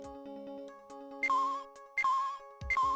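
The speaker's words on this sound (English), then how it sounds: "That's a phone." A video game phone in Phoenix Wright: Ace Attorney – Justice for All gives three bright, repeating chime rings over a soft musical background, each burst clear and evenly spaced.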